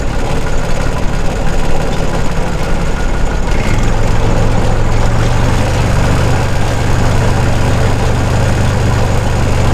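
A vintage 1965-era tractor drives a muck spreader through its power take-off. The engine holds a loud, steady, heavy rumble close by, and partway through the PTO engages and a deeper low drone joins in.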